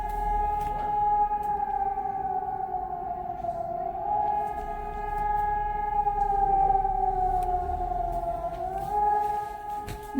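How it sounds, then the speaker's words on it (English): A civil defense warning siren in Germany wails steadily from a distance, its tone sliding slowly up and down in long sustained cycles with no other sound over it. "The sirens."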